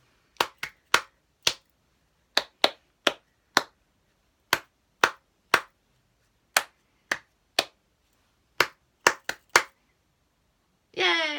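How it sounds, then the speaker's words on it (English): Sharp hand claps in short rhythmic groups, a leader's pattern answered by echoed clapping in a call-and-response children's clapping game, with pauses between phrases and a brief voice at the end. "I'm going to clap some things to you, and you've got to clap them back to me."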